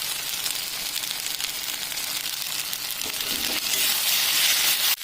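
Tomatoes go into frying onions with ginger, cumin, garlic and dried chilli for a meat curry, giving a bright steady sizzle with soft stirring scrapes that grows louder toward the end.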